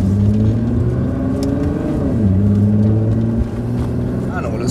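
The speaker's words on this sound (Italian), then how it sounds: "Una GoPro sullo scarico e ci andiamo a fare un giro." Exhaust of a JDM car during a drive in Japan, captured by a camera mounted at the tailpipe: a loud, steady droning rumble whose pitch rises and dips as the engine revs shift.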